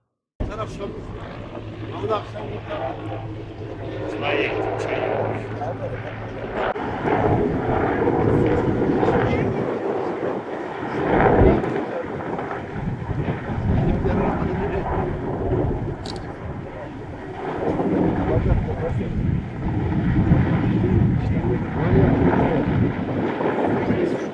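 Firefighting helicopters drawing water from Lake Yeniçağ battle a reed fire, a loud, rough roar with a gusty, wind-buffeted rumble that surges and eases throughout.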